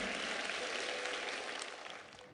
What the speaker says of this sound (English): Give his heart a huge round of applause.